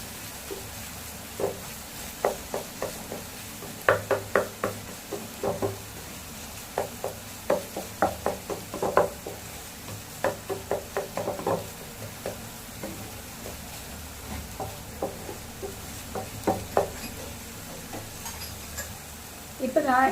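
A spatula scrapes and taps against a pan in irregular bursts while stirring an egg mixture for egg podimas, with a faint sizzle underneath, close and moderately quiet.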